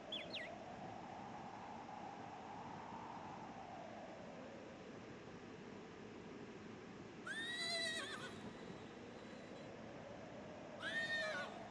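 Horse whinnies in the Apple Picker idle clicker game: a brief call at the start, then two longer, wavering neighs near the end, each rising above a steady, washing background ambience.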